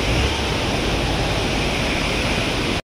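Strong river current rushing beneath the British-era Jokadia bridge in Jajpur, a loud, continuous roar of fast-flowing water that fills the whole stretch with no voices.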